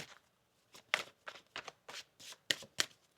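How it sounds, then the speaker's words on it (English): Quick riffling bursts of tarot cards being shuffled, a series of crisp flutters close by with short pauses between, no talking. "One more shuffle."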